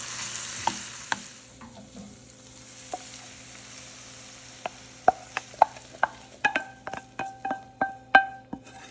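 Vegetables and onion cooking in a pan, a soft low sizzle under a series of sharp utensil clicks and taps that quicken toward the end, close and otherwise quiet, with no talk.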